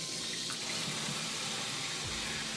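Cold tap water runs in a continuous bright splash while fresh home-grown spinach (palak) is washed in a kitchen sink, steady and close with no talk.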